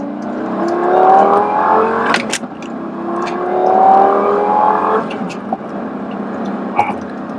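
A Lamborghini with an aftermarket exhaust revs through two rising engine pulls, loud and close from inside the car, each climb ending in a sharp crackle before the engine settles, with some talk.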